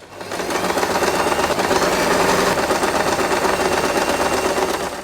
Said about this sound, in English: put the fabric together and sew this part.